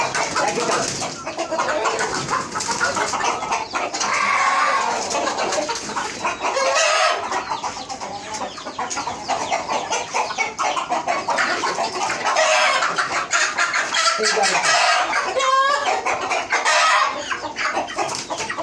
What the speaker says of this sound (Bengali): এই দেখতে পাচ্ছেন এটা মুরগি।